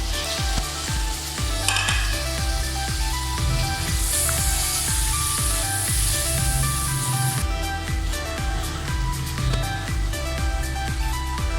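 Kaleji (liver) fries in masala with a loud, continuous hissing sizzle and occasional spattering, heard close over steady background music and no talk.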